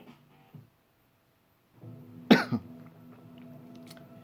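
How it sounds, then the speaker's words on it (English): A single sharp cough, close and fairly loud, with a smaller second burst right after, in a quiet room with faint background hum and low murmur before it. "Sorry, I'm still trying to get over this cough."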